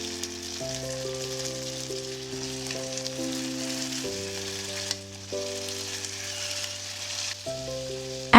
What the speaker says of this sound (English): When you smell the aroma of scallions, add blanched beef, continue to stir fry for a while.